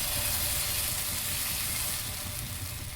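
Batter crackles and sizzles steadily on a hot tawa, a dense close hiss with a soft low bubbling underneath, continuous and fairly even for the whole stretch.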